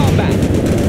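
Rapid machine gun fire rattles loudly and continuously in a combat video game, with a voice shouting over the burst.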